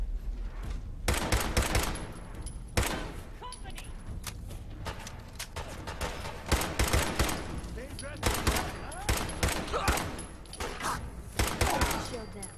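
Repeated sharp bursts of close gunfire in Fallout 4, clusters of shots spaced across a firefight with a companion nearby, while a player speaks between volleys.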